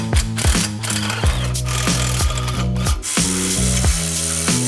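Ratchet wrench clicking steadily as it backs out E14 Torx motor mount bracket and block bolts on a BMW F30 335i N55, close and loud in repeated bursts of rapid pawl ticks with no talk.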